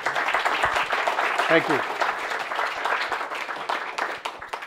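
Audience applause for a portrait photography business seminar speaker, a steady wash of many hands clapping that fills the whole stretch, with a brief spoken thanks over it.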